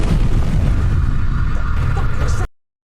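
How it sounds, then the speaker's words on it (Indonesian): A loud explosion at a boat dock erupts as a dense, sustained roar of low rumble and crackle lasting a couple of seconds, then cuts off abruptly into silence. "tiba-tiba ledakan terjadi"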